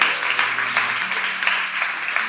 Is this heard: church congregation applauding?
yes